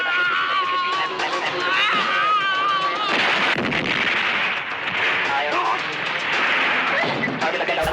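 Film battle sound effects with repeated loud explosions and gunfire bursts running continuously throughout, dense and close, with voices and radio-like chatter mixed into the din.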